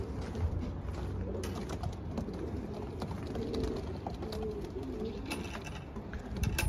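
Young racing pigeons cooing together in a loft, a steady low murmur of overlapping coos close by, continuous throughout with no talking.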